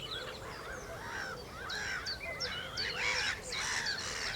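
Black-headed gulls call beside a lake at a nature reserve, a chorus of harsh, rising and falling cries overlapping at moderate distance, growing busier toward the end.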